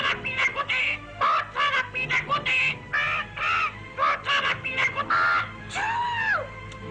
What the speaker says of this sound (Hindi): चुप हो जाओ बदतमीज तोते।